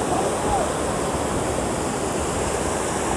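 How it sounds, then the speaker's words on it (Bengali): Strong high-tide sea waves at Shankarpur beach roar in a dense, continuous wash of surf, loud and close without distinct breaks. "এখন জোয়ারের তেজ বেশ বেশি"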